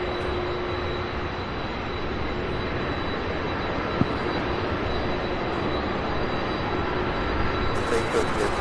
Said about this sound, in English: as this A300 now taxis